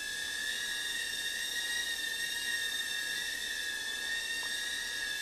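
The propellers of a Fayee Navigator quadcopter drone make a steady, high-pitched whine during landing, close and continuous, with no talk.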